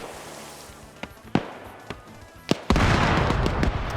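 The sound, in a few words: explosive charge grenade explosion in a video game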